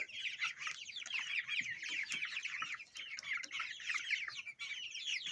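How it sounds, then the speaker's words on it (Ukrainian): A flock of year-old hens clucking and squawking continuously, several birds close by calling over one another in a busy, overlapping chatter. "А то вже старі кури,"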